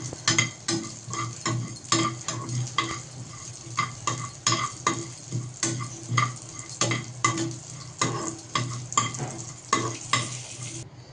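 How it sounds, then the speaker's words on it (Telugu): Cashew nuts roasting in a pan for a tofu curry paste, with a steady sizzle broken by frequent rhythmic scraping and stirring strokes of a spoon against the pan, close up and alone with no voices. "ఇలా జీడిపప్పు కూడా వేసి కొంచెం వేయించుకోవాలి."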